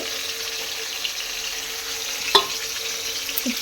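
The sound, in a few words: potatoes frying in oil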